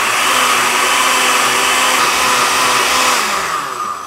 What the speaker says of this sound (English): So I'm just going to throw it in my blender.